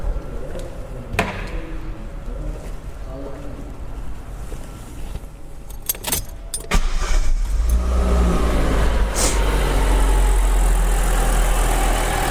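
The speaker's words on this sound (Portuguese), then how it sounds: "Vou dar partida no carro." A car engine starts up during a diagnostic test and settles into a steady running rumble, with clicks and handling noises nearby and a louder, fuller drone in the later part.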